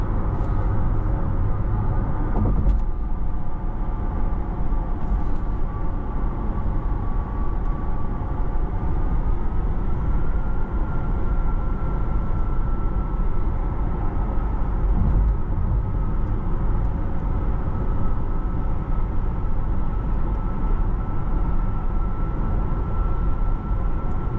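A 2025 Porsche Taycan electric car accelerating on the road, heard from inside as a steady low road and wind rumble with a faint rising electric whine, continuous and fairly loud.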